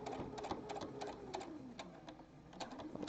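A sewing machine runs in quick, uneven bursts of needle strokes while stitching a jockstrap seam, a close rattling patter that starts and pauses several times.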